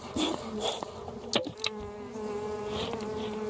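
Honeybees in a nuc hive buzz steadily and close by, a dense, continuous drone with a few brief louder bursts of activity partway through.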